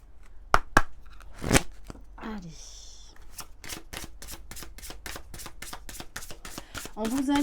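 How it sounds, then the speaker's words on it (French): Oracle cards from the Béline revisité deck are shuffled close up in a long run of quick, crisp riffling flicks, with a few louder card snaps and soft rustles early on and faint breathy noise near the end. "On va prendre quelques cartes du Béline revisité de Gabriel Sanchez."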